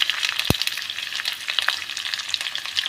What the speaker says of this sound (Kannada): ಸೊ ಇದಿಷ್ಟು ಇವಾಗ ಸ್ವಲ್ಪ ಆಯಿಲಲ್ಲೇ ಈ ರೀತಿಯಾಗಿ ಫ್ರೈ ಮಾಡ್ಕೊಳ್ಳಿ.